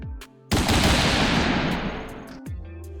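Dense gunfire mixed with booming cannon fire rips out as a loud, sustained barrage for about two seconds, then cuts off abruptly. A short lead-in comes before it and a brief tail follows, with no talking.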